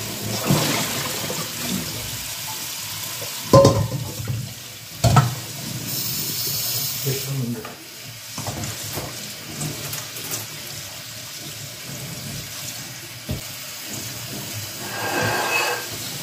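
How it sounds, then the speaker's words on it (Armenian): Food is rinsed in a bowl under a running kitchen tap, with a steady wash of flowing water, a few louder splashes and clunks of handling, and no talk. "որ հոսով ջրի տակ լավ պարզադրել"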